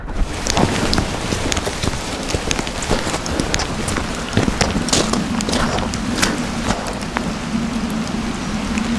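Steady rain patters on a hillside hiking trail at Kinder Scout, a dense continuous hiss with scattered sharper drops close to the microphone, no voices.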